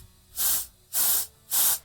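Air sprays from the fuel filter of a Jeep J20 truck with an AMC 360 engine, in three short, loud hissing bursts evenly spaced with brief pauses between them.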